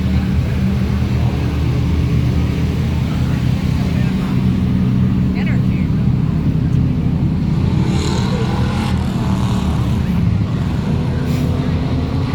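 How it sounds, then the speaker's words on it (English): Race cars at Caraway Speedway making a steady, continuous engine roar from a passing pack, loud and unbroken throughout, with no clear gaps between cars. "as soon as all these cars pass, I'll try again"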